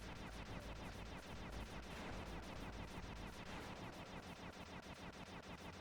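Rapid, continuous bouncy-bullet gunfire from the video game Sly 2 rattles without pause, a dense stream of quick shots over a busy, full background.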